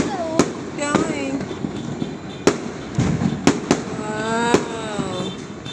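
Fireworks and firecrackers explode during a 2024 New Year celebration, with sharp loud bangs scattered irregularly over about six seconds, some whistling rockets rising between them, and people chattering and exclaiming throughout.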